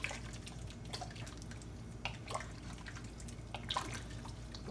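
Water poured into a pot for a smothered pot roast, heard as a faint, steady splashing and trickling with small drip-like spatters, close by and with no voice.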